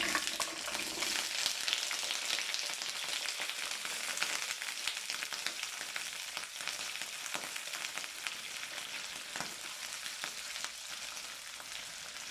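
Washed grapes for a sweet-sour grape pickle are turned in a hot pan, making a soft, even sizzle and faint stirring rustle that carries on steadily at low volume, with no voices.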